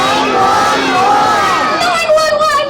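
A close crowd of children at Legoland California shout a number together in one loud, high-pitched unison call that holds for a couple of seconds and then breaks into a few separate yells.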